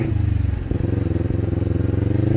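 A Kawasaki Ninja 400 engine idles close by in a steady throbbing pulse, then revs briefly in short blips over the even beat, loud and alone without talk.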